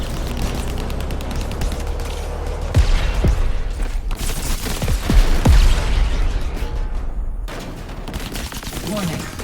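Station turrets fire in the video game Crackdown 3, a dense stream of rapid gunfire bursts and heavy impacts rattling continuously, with a few sharp louder shots standing out.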